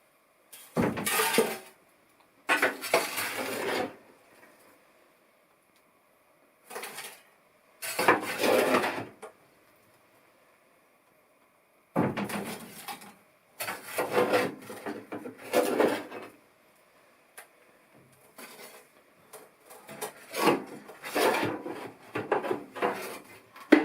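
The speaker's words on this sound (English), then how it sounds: "Just use a little shovel for inside. I scoop it out and put the bigger shovel." A small metal shovel scraping and scooping ashes out of a wood stove in an off-grid log cabin with metal sheeting on the floor, heard as repeated close rasping scrapes in separate bursts with quiet gaps between.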